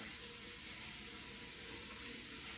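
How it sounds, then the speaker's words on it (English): Water pouring into a bowl of flour, poolish and yeast for bread dough, a soft steady hissing splash from close by with no talk. "now we're going to tip in our yeast and water"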